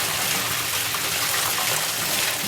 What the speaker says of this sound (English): And then cover them with some hot water.